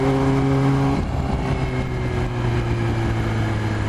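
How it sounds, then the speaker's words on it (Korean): A car engine idles and shifts in pitch as the car reverses on a road near a Yamaha R6 motorcycle, a loud steady rumble with a tonal drone that changes after a second. "차 왜 후진하노"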